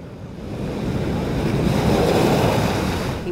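High surf crashing at Ocean Beach Pier during a high tide, a big set of waves rolling in as a loud, continuous roar that builds steadily, with wind rumbling across the microphone.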